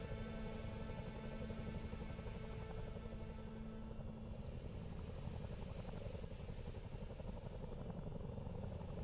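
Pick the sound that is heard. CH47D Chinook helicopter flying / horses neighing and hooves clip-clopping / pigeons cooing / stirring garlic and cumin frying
CH47D Chinook helicopter flying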